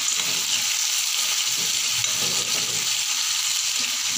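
Onions and peanuts frying in oil in a pan, a steady close sizzle that runs unbroken and evenly loud throughout, with no talking.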